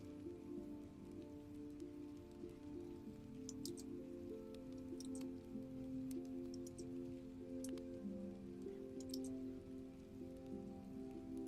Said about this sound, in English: Yeah, the rain.